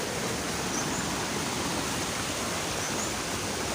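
Waterfall on Biliran island, a dense, steady roar of falling water that fills the whole sound evenly and continuously, with no voices over it.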